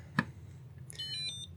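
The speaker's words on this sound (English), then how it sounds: "Oh, it beeps." A small gift gadget beeping as it powers on: a faint, quiet thump followed by a brief cluster of high electronic beeps, with no talking.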